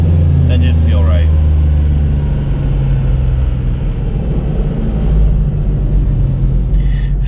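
A 2014 Ford Mustang GT500 with a supercharger runs on a dyno, a loud, steady, deep engine roar and rumble filling the whole stretch, with voices faintly beneath.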